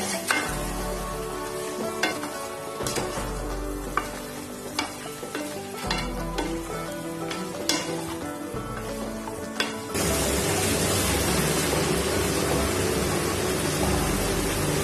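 Local chicken meat frying with onions in a pan: rhythmic scraping strokes of stirring over a crackling sizzle, then a louder, continuous hiss of frying for the last few seconds.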